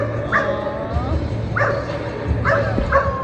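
Dogs at a dog show in Lubbock give several short yips and barks over a busy indoor murmur. The calls are close and moderately loud, spaced irregularly across a few seconds.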